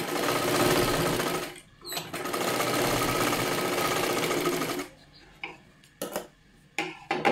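A sewing machine stitches a katori blouse in a long, fast mechanical whir that pauses briefly, runs on for several seconds, then breaks into short, separate bursts of stitching near the end.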